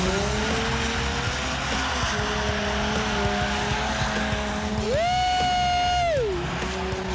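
Racing car engines drone steadily at a race in Morocco, then one screams past with a rising and falling whine, loud and close.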